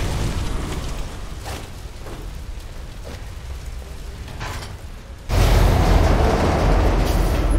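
In the Alpha Protocol video game, a train bears down and rushes past: a low rumbling clatter builds quietly, then bursts into a sudden, much louder roar near the end that stays heavy and close.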